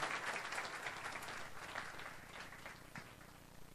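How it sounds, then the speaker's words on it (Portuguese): A church congregation applauds during an evening service. The clapping is soft and distant, a faint wash of hands that keeps going under a low room hum. "vamos dar uma salva de palmas"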